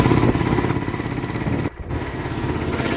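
A tractor engine drones steadily at close range on a road trip to the Mahuva market, a rough mid-pitched chugging with a brief dip before the run continues.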